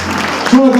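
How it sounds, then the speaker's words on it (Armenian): Guests clap at a restaurant celebration led by an Armenian tamada host, a brief burst of applause that gives way to a sustained brass-like tone. "Շնորհակալություն ծափերի համար"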